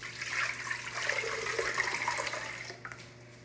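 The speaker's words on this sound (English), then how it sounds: "I have my 4 cups of warm distilled water that I'm going to add to my blender." Warm distilled water, about four cups, pours steadily into a blender jar for a red cabbage acid-base indicator, a continuous splashing rush that stays fairly loud and then tapers off near the end, with no talking.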